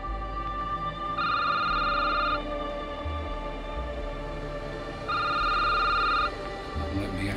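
A video game telephone in a security booth rings in two bright electronic bursts about four seconds apart, clear and steady over a low background hum.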